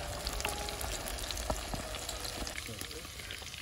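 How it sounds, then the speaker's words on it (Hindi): Meat leg pieces frying in a pan for desi roasted chicken, a steady close crackling sizzle running throughout with small pops and faint stirring. "अपना फ्राई हो रहा मीट"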